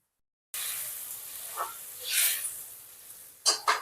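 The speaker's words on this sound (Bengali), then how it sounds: "সেই গরম জলটা এর উপরে পরিমাণ মতো দিয়ে দেবো" Hot water is poured into a pan of sizzling fish curry (bata fish with potato and ridge gourd), giving a steady close hiss and sizzle that swells briefly mid-pour and ends with two sharp spitting bursts.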